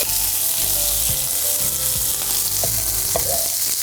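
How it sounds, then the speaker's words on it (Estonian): Bell pepper, garlic, onion and lentils fry loudly in a pan for a spicy lentil stew, a dense close sizzle with occasional stirring knocks, no speech. "paneme paprika esimesena. Ja siis lisame küüslaugu, sibula ja"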